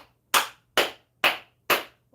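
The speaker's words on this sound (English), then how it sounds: "Clap your hands." Sharp, close handclaps from a yoga class ring out four times at an even, unhurried pace with silence between each.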